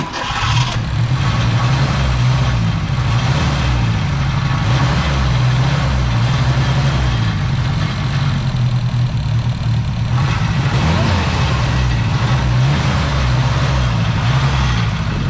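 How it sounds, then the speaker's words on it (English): A 1972 Ford Pinto with a 4-speed runs rough after sitting abandoned, its engine shaking and missing as the carburetor acts up. A loud, steady, low engine drone fills the whole stretch close by, with no talk. "Your motor is shaking like a leaf."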